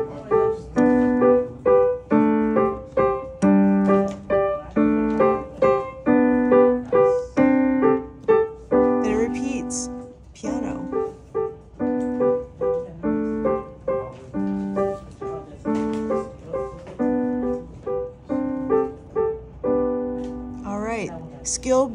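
A piano waltz in B harmonic, 3/4 time, moves in repeating note groups with a gentle triple pulse, and some speech is heard over the playing.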